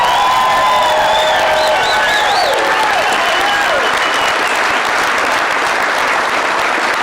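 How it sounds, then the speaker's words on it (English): A large crowd of political supporters at a Louisiana election-night rally breaks into loud, sustained applause, steady and dense, with scattered whistles and cheers rising through it. "can we give President Trump a round of applause?"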